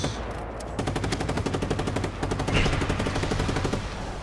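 Rapid automatic gunfire in the Just Cause 3 video game, loud and continuous bursts with dense rhythmic shots after a brief opening noise, no talking.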